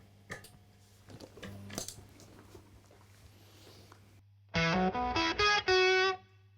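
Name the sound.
electric guitar through Octafuse octave fuzz pedal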